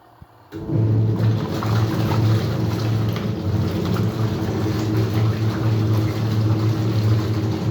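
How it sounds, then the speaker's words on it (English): A washing machine kicks on after a brief quiet moment and spins the clothes, with a loud steady churning, whirring hum and a low motor drone that hold for several seconds. "this is no more washing, this is basically spinning the clothes"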